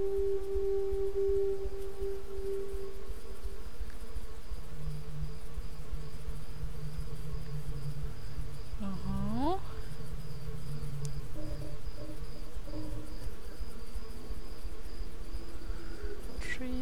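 Bees buzz in the video game Stasis: a continuous insect drone holds under a steady ambient hum, with a brief rising electronic sweep partway through and no voices.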